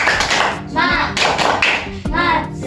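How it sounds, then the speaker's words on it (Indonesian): A fifth-grade primary school class claps out a rhythmic spirit cheer in quick, patterned bursts, with children's voices chanting along between the claps. "Tepuk semangat."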